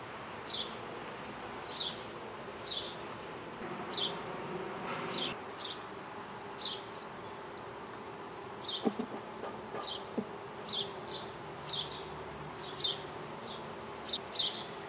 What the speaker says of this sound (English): Bees are looking at me.